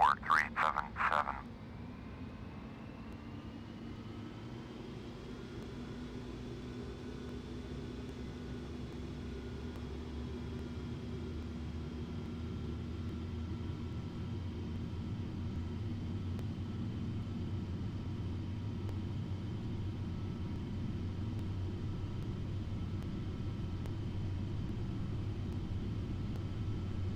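Airliner taking off in a flight simulator game, a steady, rising jet engine roar and low rumble that holds for a long stretch after a brief clatter at the start.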